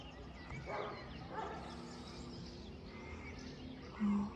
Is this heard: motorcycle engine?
no